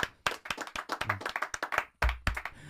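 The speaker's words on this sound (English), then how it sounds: "let's clap it up for our sponsors, boys" Podcast hosts at a live sports show clap for their sponsors, a burst of loud, close hand claps in quick, uneven rhythm from a few people, pausing briefly before resuming.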